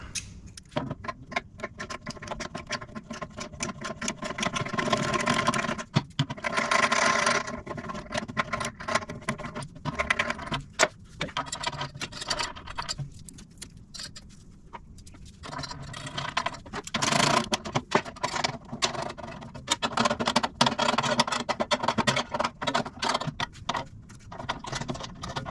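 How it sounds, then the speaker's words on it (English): A ratcheting tap wrench cuts threads during a GT40 kit car coolant header build, giving a steady stream of fine ticking ratchet clicks and scraping taps that run in bursts and pauses for about 25 seconds, close and fairly loud with no talk. "I did go and buy myself a ratcheting tap wrench."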